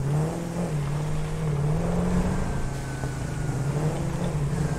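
A vehicle drives steadily in the factory-building game Satisfactory, its low engine drone holding a fairly even pitch with slight rises and dips, loud and continuous throughout with no talk.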